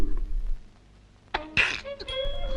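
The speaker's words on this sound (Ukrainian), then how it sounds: "хто це чхає?" A single sharp cartoon sneeze bursts out midway through an animated winter scene, preceded by a breathy intake, followed by brief voiced sounds and faint background music.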